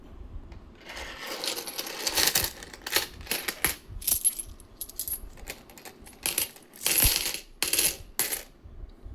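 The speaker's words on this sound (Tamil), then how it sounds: "இது பேகம் அக்தர் 5 ரூபா நாணயம், கமாமிரட்டி நாணயம்," Begum Akhtar commemorative five-rupee coins, uncirculated and from the Mumbai mint, clink and jingle together in bursts of bright metallic chimes, close and fairly loud, with short pauses between handfuls and no talking.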